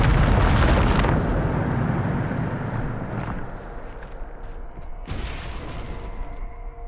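A Bombarda explosion spell in Hogwarts Legacy detonates with a heavy, roaring boom that slowly decays into a long rumble, and a second blast flares about five seconds later.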